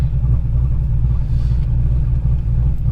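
Corvette engine rumbling steadily from inside the car as it drives through Cleveland, Ohio, a loud continuous low drone with no talk over it.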